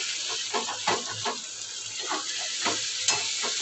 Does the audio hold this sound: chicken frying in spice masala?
yes